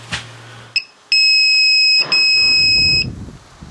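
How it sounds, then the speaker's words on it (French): Alarms on a tower on the island sound as a loud, steady electronic two-tone beep. It holds for about two seconds with one short break and stands alone apart from a few brief knocks. "je vais pouvoir actionner les, alarmes qui se trouvent au niveau de la tour"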